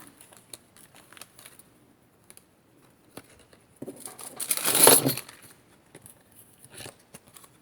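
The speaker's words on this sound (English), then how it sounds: "now I'll cut myself another piece of the silkscreen" Scissors cut a piece of polymer clay silkscreen. Faint scattered clicks and snips lead up to a louder burst of rustling and crisp cutting noise near the middle, then a few soft taps.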